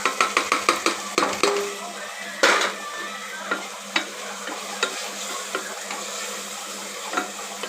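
Repeated scraping and stirring clicks of a spatula in a pan over a soft, steady sizzle of paneer frying close by for biryani.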